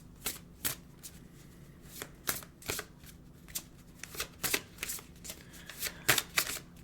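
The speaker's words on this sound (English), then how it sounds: "I need to be messier when I shuffle my cards" A deck of oracle cards is shuffled by hand in quick, irregular bursts of crisp riffling and slapping, close and fairly quiet, with no talking.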